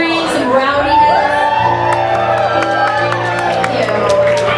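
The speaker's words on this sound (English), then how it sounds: "So can I just get some cheering, some rowdiness?" A crowd at a Hollywood Remembers Rage event cheers and whoops loudly and continuously, with shouts and scattered clapping blending into a dense roar that holds for several seconds.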